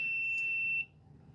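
Steady high continuity beep from a multimeter on its ohm setting, tested across a switch on a John Deere zero-turn mower, holding for under a second and then cutting off, leaving quiet room noise and a faint click.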